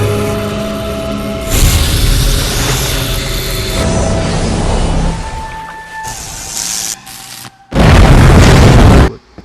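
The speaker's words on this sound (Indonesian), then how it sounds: "Dengan senjata yang Josh bawa, ia langsung menembakkannya pada hiu tersebut." Loud film-style gunshot blasts are fired at a shark, with a heavy sustained boom early on and a final sharp blast near the end, mixed with rumbling movie sound effects.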